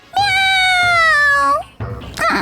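A cartoon cat gives one long, loud, drawn-out meow that bends down in pitch at the end. Low rhythmic background music plays under it, and a short harsh sound follows.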